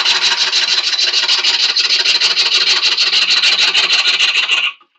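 Wood being turned on a spinning lathe with too big a cut for the speed, giving a loud, continuous close-up rasping scrape with rapid chattering pulses for about five seconds before stopping abruptly.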